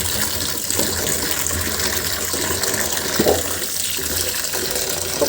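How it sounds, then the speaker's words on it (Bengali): Pieces of pumpkin are washed under a running kitchen tap, giving a steady gush of water broken by scattered splashes and knocks as the pieces are handled, with no talking. "খুব ভালো করে ধুয়ে নিব, যেন এর ভিতরে একটু কষ না থাকে।"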